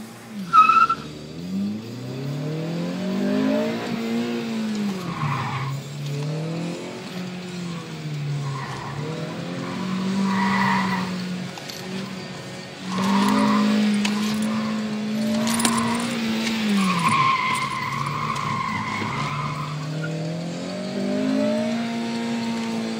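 An autocross car at an expo event runs hard, its engine rising and falling through repeated acceleration and braking while tires squeal and skid loudly and continuously, close by.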